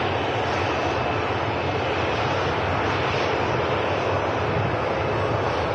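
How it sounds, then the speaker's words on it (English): A Pegasus Boeing 737-800 jet airliner roars at an airport, a loud, steady broadband engine rush sustained throughout with no talking. "the Pegasus Boeing 737-850 on the way back to Istanbul"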